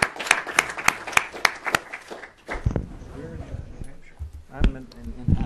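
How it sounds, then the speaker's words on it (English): A round of audience applause follows a panel discussion on electric cars. Loud, dense clapping at the start fades out within a couple of seconds, followed by scattered movement and voices. "Please join me in a round of applause for this very interesting panel."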